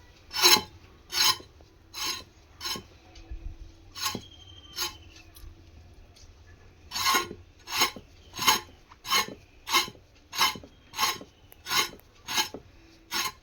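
A knife slices slowly through vegetables in a home kitchen, giving a steady run of about twenty crisp scraping cuts with short pauses between them, close and fairly quiet, with no talk.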